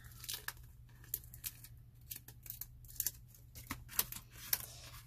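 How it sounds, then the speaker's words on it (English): Scissors snip open plastic bags in quick, close, irregular cuts, each crisp snip mixed with crinkling plastic, against a quiet background. "I am just going to cut them open."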